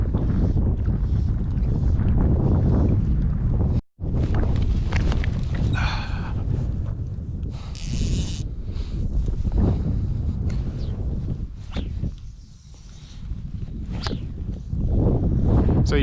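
Wind blowing outdoors beside a mountain lake, with a strong low rumble and buffeting against the microphone that is steady throughout apart from one brief dropout and a few gust swells.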